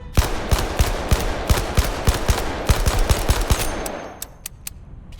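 Rapid gunfire from the VR shooter Blood and Truth at its shooting range: a string of sharp shots in quick irregular bursts, loud and close, thinning to a few scattered shots as it trails off.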